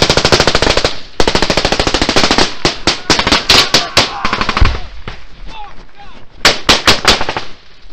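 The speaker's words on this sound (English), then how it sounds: "I need cover fire!" Heavy machine gun fire in combat during a Taliban ambush in Afghanistan, loud close bursts of rapid shots with brief gaps, echoing shots and a short lull before more bursts, with shouting voices mixed in.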